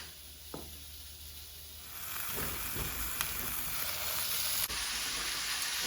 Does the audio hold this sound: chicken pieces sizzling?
yes